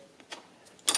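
Small metallic clicks and a scrape as a screwdriver turns to adjust a unicycle pedal, a few faint, sparse ticks followed by a louder close scrape at the end.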